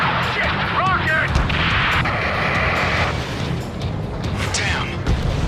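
Rocket explosions and combat noise in the video game Battlefield 3, with heavy booms and crackling blasts over a constant rumble while voices shout over the chaos.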